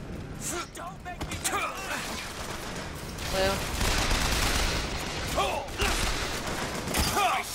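Gunfire rings out in the video game Bioshock Infinite, bursts of loud shots and rattling weapon mechanisms spread across the scene, with a voice speaking in between.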